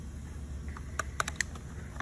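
A plastic guard is pried off a Ford Focus ST Recaro seat, giving a few faint, sharp plastic clicks and snaps over a low background hum.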